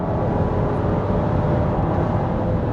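GMC Acadia engine running steadily while driving, a continuous low, even drone with road rumble filling the cabin throughout, with no talking.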